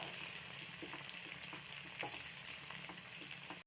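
Onions and curry leaves fry gently in a pan for chickpea curry, a faint continuous sizzle with occasional soft stirring clicks, ending abruptly.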